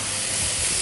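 Freshly blanched, drained peas hit a hot frying pan, a loud, dense, even sizzle and hiss filling the short moment close up with no talking.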